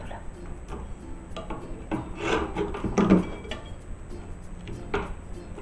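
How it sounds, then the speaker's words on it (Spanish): Close-up rough scraping of a spatula removing a frame from a wooden nightstand, rasping strokes repeating unevenly with a couple of louder scrapes in the middle. "ahora voy a retirar también el marco con la espátula"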